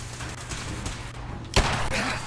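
A single sharp gunshot from a video game cracks out near the end of a short stretch of muffled background game noise, loud and close.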